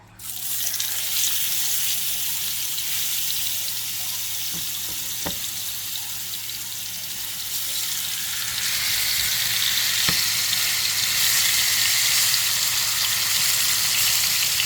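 Pork chops dropped into a hot pot over medium heat, a loud close sizzle that holds steady with a few faint clinks, then swells into a stronger hiss partway through.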